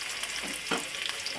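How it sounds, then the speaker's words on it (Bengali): Green chilli and garlic sizzle in a hot pan, a soft steady crackle with a few brief louder spits, close but fairly quiet. "আগে লঙ্কা একটু দিলাম, তারপরে রসুন"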